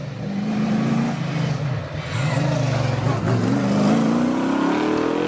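A hillclimb race car's 6.5 litre Chevy engine roars loud and close, dipping briefly and then climbing in pitch as it accelerates hard at Prescott.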